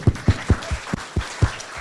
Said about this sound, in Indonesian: kita boleh tepuk tangan dulu.